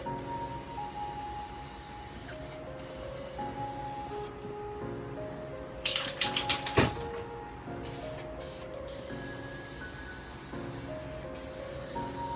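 A spray gun applies paint to a urethane bumper in quiet, steady hissing passes, with a few sharper bursts and rattles around the middle of the stretch.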